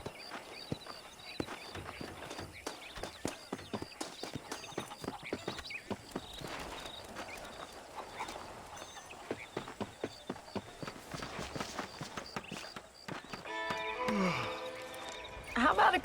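Horse hooves clip-clopping in a steady rhythm while riding in the Western video game Red Dead Redemption, close and continuous with game sounds layered over them toward the end.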